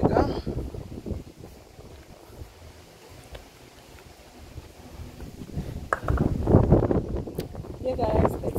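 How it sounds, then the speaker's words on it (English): Gusts on a windy London day buffet the microphone in low, rumbling bursts while walking outdoors, swelling louder toward the end, with a person talking over part of it. "it's a windy day today"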